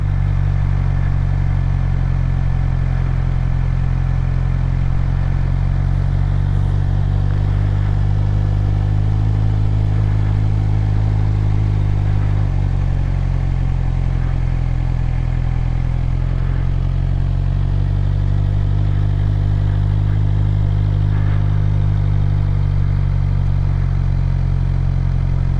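A motorcycle rides in first gear, its steady low engine drone heard close and continuous with slight shifts in pitch and a rumbling wind-buffeted background.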